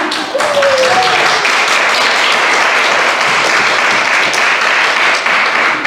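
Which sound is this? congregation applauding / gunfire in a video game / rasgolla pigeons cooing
congregation applauding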